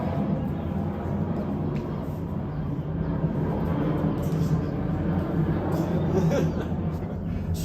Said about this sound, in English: Plane goes by